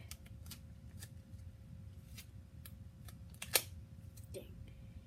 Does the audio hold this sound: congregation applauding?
no